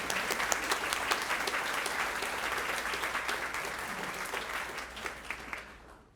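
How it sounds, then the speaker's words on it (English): An elementary school partnership recognition audience gives sustained applause, many hands clapping densely at moderate distance and slowly fading out at the close. "let's give her a round of applause because she's a very busy lady"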